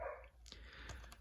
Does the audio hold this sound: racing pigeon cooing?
no